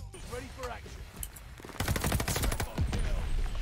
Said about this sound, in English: We're using the Cooper for the first time and this gun is insane.